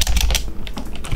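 Quick bursts of clacking keys on a computer keyboard while entering a code in a Roblox garbage collection game, close and crisp, a few rapid strokes with a short pause midway.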